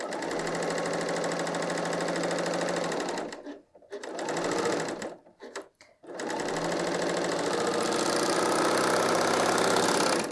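A BERNINA L 890 sewing machine stitching a woven top runs in a fast steady whir, stops briefly with a few short bursts of stitching in the middle, then runs steadily again to the end.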